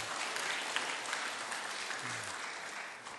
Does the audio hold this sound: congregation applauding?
yes